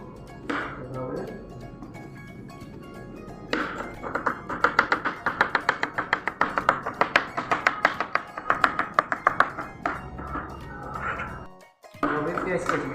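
A knife chops vegetables on a board for a mixed vegetable salad, a fast even run of close, crisp taps that stops briefly before chopping resumes, with a voice speaking at times.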